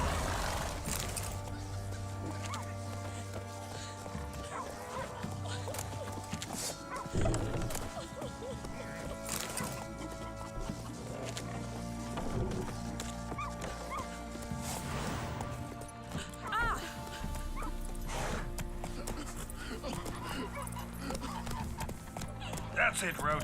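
Hooves of Roach, a horse in The Witcher 3, trot in a steady clip-clop over game music and ambience, with occasional louder crashes and possible speech mixed in.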